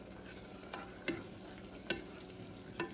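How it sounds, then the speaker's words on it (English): Scrambled eggs are stirred with a spoon in a pan over a soft, steady frying sizzle, with three or four sharp little clinks of the spoon against the pan, close and fairly quiet, with no speech. "we're gonna take this spoon right here and we're gonna stir."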